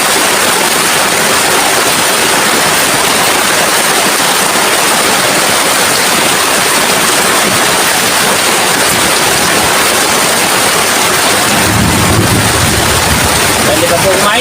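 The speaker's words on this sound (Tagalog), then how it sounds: "naabutan po tayo ng ulan, gabi, ang dilim" Heavy nighttime rain pours down steadily as a loud, dense wash of noise, with a low rumbling swell near the end.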